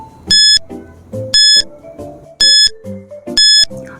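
A quiz countdown timer plays a looping electronic jingle with four loud, bright beep bursts at regular intervals over a repeating melodic pattern, clear and close with no talking.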